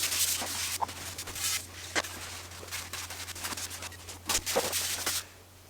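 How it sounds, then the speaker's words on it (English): Cloth wiping down a Peloton exercise bike, a series of close, soft rubbing and swishing strokes in an uneven rhythm, with a low steady hum underneath and no speech. "gonna go and just give the whole bike a really good wipe down"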